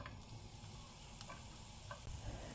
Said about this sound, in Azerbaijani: Tavaya 2 xörək qaşığı kərə yağ əlavə eləmişəm və doğradığım soğanları buraya